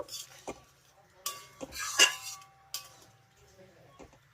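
A spoon stirs a simmering eggplant gravy in a pan, giving a few scattered scrapes and light metallic clinks with quiet gaps between them, close by and fairly soft.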